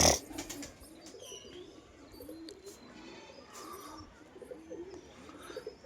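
Pigeons coo in low, soft repeated calls close by, with faint chirps and a brief loud knock at the very start, no talking.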